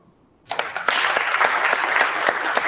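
Enthusiastic applause from a small group at a public-school discussion circle, starting abruptly after a moment of quiet and continuing as dense, steady clapping to the end.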